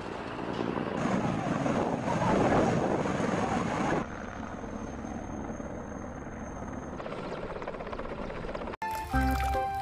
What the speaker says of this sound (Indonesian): di sini ada helikopter militer